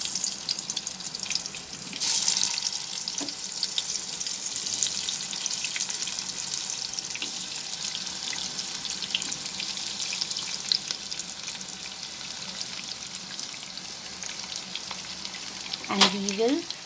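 Pointed gourd dropped into hot mustard oil, a bright steady sizzle and crackle of frying close by, with a louder splash of hissing as pieces hit the oil and light stirring sounds.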